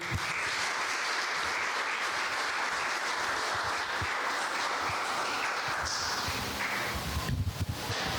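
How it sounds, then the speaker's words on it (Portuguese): A church congregation applauds continuously at a steady, moderately loud level for the whole stretch, with dense overlapping claps and no clear voices. "aplaude ao Senhor pela vida dele"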